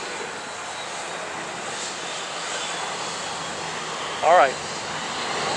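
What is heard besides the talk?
Southwest jet airliner flying over airport runway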